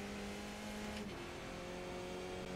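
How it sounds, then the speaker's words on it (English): A race car engine in Assetto Corsa Competizione drones steadily at high revs, with a quick throttle blip on a downshift jumping the pitch briefly before it settles again, loud and continuous with no voices. "It's really satisfying blipping the throttle for the downshift"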